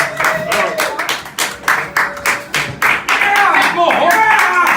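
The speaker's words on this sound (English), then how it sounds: "please give a big round of applause to welcome back on stage our lovely reader, Jilliana." Audience clapping to welcome a spoken word poet back on stage at a Paris spoken word night, scattered uneven claps mixed with cheering voices and talk, loud and close.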